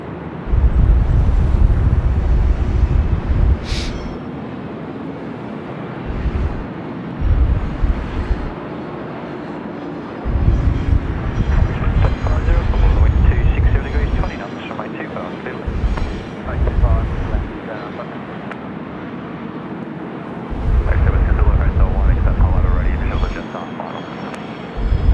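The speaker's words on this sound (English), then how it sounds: "Yep, the Qantas is taxiing on Alpha northbound." Qantas airliner taxiing and departing at Sydney Airport on a windy day, a loud rumbling jet roar that rises and falls in long swells under buffeting wind noise, with radio chatter in between.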